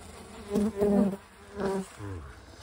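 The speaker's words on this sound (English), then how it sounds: "Okay, little bees, they're not so happy" Bees buzz close up in a mini hive during a winter inspection, several swelling bursts, a droning hum that rises and fades in uneven waves.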